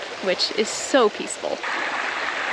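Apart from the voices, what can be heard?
river water running near campsite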